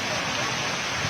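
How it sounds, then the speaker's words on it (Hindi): Heavy monsoon rain pours down in Sindh, a dense, steady broadband hiss of downpour that stays loud and even throughout the short stretch. "मानसून बरसात ने सिंध भर में जलथल कर दिया। बादल खुलकर बरस पड़े।"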